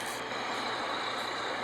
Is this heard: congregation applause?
no